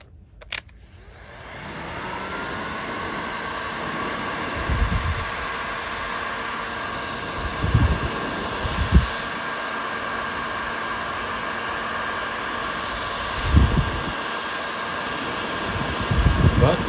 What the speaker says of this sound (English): Goes to show how powerful these heat guns are if you have them set up right.